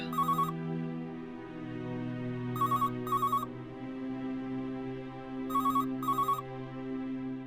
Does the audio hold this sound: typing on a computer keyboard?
no